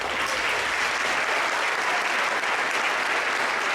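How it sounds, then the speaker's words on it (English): Loud, dense applause from a festival audience honoring a regional middle school boys' choir, a steady unbroken roar of clapping throughout with no voices on top. "Give them a round of applause."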